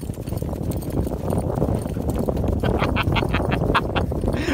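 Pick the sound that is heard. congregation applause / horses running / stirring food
horses running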